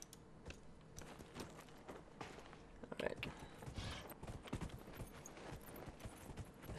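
Horse hooves clip-clop in the Dragon Age Inquisition video game, a steady walking gait under dense game music and ambience, with a player talking over it.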